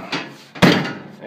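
Sliding door of a used construction van pulled shut, a soft rolling scrape followed by a loud solid thump, close up and alone.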